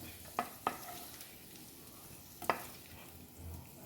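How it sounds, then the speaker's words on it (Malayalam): Shallow-fried prawns in a pan being flipped and lifted out, a faint, steady sizzle with a few sharp scrapes and taps of the utensil against the pan. "നമ്മൾ ചെമ്മീൻ ഷാലോ ഫ്രൈ ചെയ്തത് ഇനി കോരിയെടുക്കാം."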